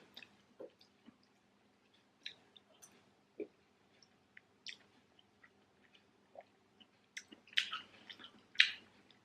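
Chewing a Weight Watchers beef bolognese ready meal, soft quiet mouth clicks and squishes scattered irregularly, close and faint, with a brief louder wet burst near the end.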